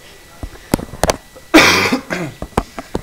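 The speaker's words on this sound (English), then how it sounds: "I've had a bit of a cough since I got here." A man coughs once, loud and close, a rough burst of about half a second, amid scattered clicks and short bits of his speech.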